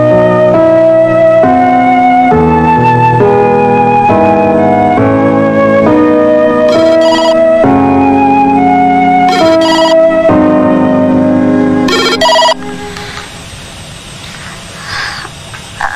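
A telephone rings loud and close in a home, repeated electronic melodic ringtone phrases for about twelve seconds, then cutting off into a quiet room with faint background noise.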